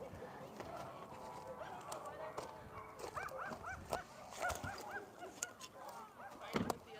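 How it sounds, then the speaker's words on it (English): Dogs bark and yelp in a scuffle with other dogs outdoors, giving a busy run of overlapping, fairly close barks that grow louder toward the end, mixed with honking goose-like calls and a little background talk. "Fighting with the other dogs"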